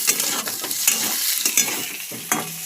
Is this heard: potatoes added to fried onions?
yes